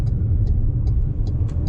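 MG Astor 1.4 turbo petrol car driven at full throttle, a steady loud low engine rumble with road noise filling the cabin throughout, no talking.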